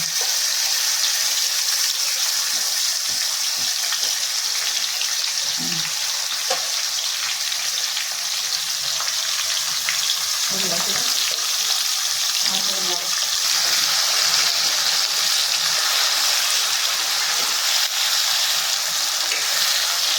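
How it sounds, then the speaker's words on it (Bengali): Marinated chicken frying in a pot for biryani, after the onions are done, produces a loud, steady sizzle that runs the whole time, with occasional stirring strokes breaking through. "বিরিয়ানির জন্য মাংস আমাদের কষানো হচ্ছে"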